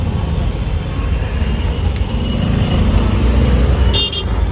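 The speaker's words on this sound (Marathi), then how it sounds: "ट्रॅफिक लागले" Busy city road traffic in Dadar, Mumbai, rumbles nearby, with engines droning steadily and a short car horn toot near the end.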